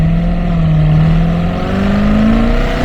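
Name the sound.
C7 Corvette Z06 engine revving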